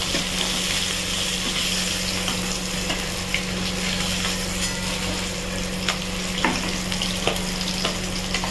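Fish frying in a kadai after being flipped to cook the second side, a steady close sizzle and crackle of hot oil running continuously with occasional sharper pops and a low background hum.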